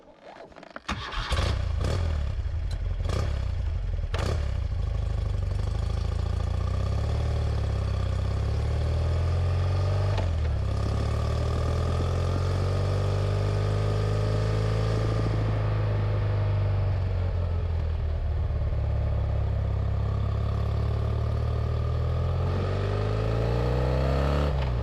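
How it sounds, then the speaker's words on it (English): A BMW R100 motorcycle's boxer twin engine starts with a few sharp bursts, then settles into a loud, steady idle close by. It rises and falls with a couple of revs, and no talk is heard. "this really is one of the great motorbike engine noises"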